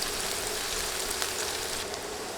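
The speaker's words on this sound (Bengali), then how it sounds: "নেড়ে নেড়ে ভেজে নিচ্ছি" Chana dal fries and is stirred in a pan, giving a steady, close, rain-like sizzle that holds even throughout with no talking.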